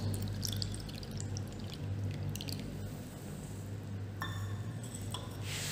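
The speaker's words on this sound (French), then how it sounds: "je prends une petite quantité du mélange, comme ça, sur toute la partie supérieure, puis je verse dans le filtre" Lime water mixture is poured into a filter, a soft continuous liquid pour and drip up close with faint glassy clinks and no talking.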